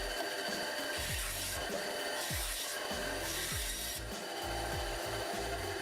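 A saw blade cuts through a wooden puzzle piece in steady repeated strokes, a close rasping, grinding rhythm running continuously without talk.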